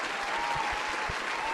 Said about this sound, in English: Everybody, please give a round of applause for Lizzie.